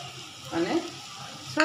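Chopped mango with added sugar sizzles in a pan as it is stirred, a continuous close hiss with brief voice sounds rising over it.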